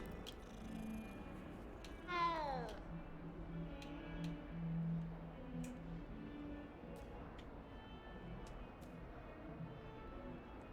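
A cat in the video game Hogwarts Legacy gives a single rising-and-falling meow, fairly clear over quiet ambient room tone, with faint ticking in the background.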